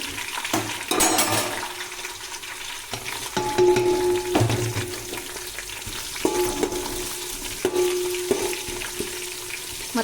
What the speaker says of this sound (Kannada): ಇದು ಈರುಳ್ಳಿ ಬ್ರೌನ್ ಕಲರ್ ಬಂದಿದೆ ಇವಾಗ ನಾನು ಹಸಿಮೆಣಸಿನ್ಕಾಯಿ ಹಾಕ್ತೀನಿ